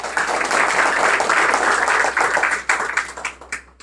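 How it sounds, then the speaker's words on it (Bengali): Audience applause at a staged drama performance, dense sustained clapping that holds steady for a few seconds, then thins into scattered claps and fades out. "আমাদের সবার জন্য একটা জোরে হাততালি হয়ে যাক"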